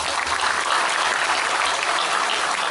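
A crowd applauds a music ensemble at a Ma'iyah religious gathering, with a loud, continuous wash of many hands clapping that stays even from start to finish.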